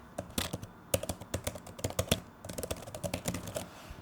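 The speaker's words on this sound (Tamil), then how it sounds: "இப்போ ஃபர்ஸ்ட்டாக வந்துட்டு டைப் பண்ணுறப்போ வந்துட்டு சைலண்ட்டாக இருக்கா இல்லாட்டி சத்தமாக இருக்கா நம்ம ட்ரை பண்ணி பார்த்துக்கலாம்" Fingers type quickly on a budget wireless keyboard meant as a cheaper alternative to the Apple Magic Keyboard, producing bursts of crisp, close key clicks with a brief pause midway.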